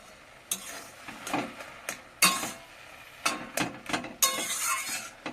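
Jute leaves, salted and seasoned with turmeric, cook down in a wok while a spatula scrapes and clinks against the metal in uneven, repeated strokes over a soft background sizzle, fairly quiet and close.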